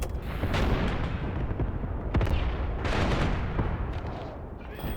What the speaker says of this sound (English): Just hear those bullets cracking.